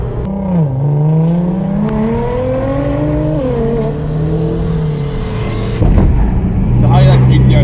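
A straight-piped Nissan GTR drives and accelerates, its raspy engine note climbing and falling through revs from inside the car, then a sharp louder surge of throttle near the end.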